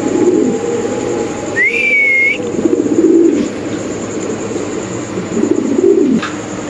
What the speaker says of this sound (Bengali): সো দর্শক এখানে আছে এক পিস বন্ডিনেট কবুতর